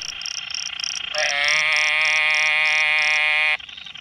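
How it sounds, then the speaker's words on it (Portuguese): A Dermatonotus muelleri frog gives a long, loud, buzzing nasal call much like a goat's bleat, preceded by short repeated notes, close and clear. "Esse anfíbio, ele canta muito parecido com um bode."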